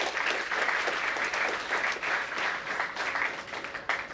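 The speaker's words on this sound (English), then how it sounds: "A big round of applause, ladies and gentlemen." Sustained audience applause at a memorial lecture, a dense even wash of clapping from a crowd filling the whole stretch.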